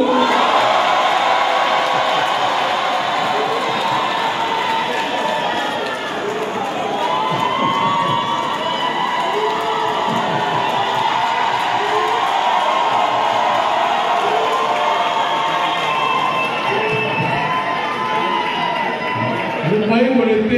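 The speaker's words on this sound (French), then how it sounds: "je sais que ça va crier parce qu'ils sont partout sur la terre." A large crowd at a public event in Kinshasa shouts and cheers loudly and continuously, many voices blending into a dense roar with rising bursts throughout.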